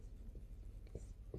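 Chalk or marker writing on a board during a Class 10 physics lesson on light reflection, a few faint scratchy strokes up close in a quiet room.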